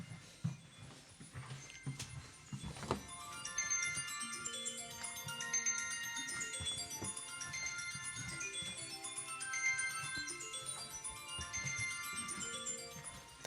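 A phone ringtone plays a repeating melodic pattern of bright synthesized tones, steady and continuous throughout, faint and somewhat distant with no talking.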